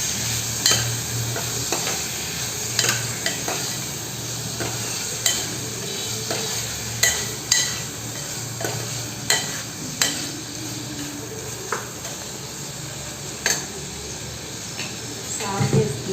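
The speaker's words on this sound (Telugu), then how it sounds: "బాగా ఫ్రై అవ్వాలి." Tomatoes fry in a pan with a steady sizzle, broken by repeated sharp scrapes and taps of a spoon stirring them, close and clear, with a voice talking intermittently over the cooking.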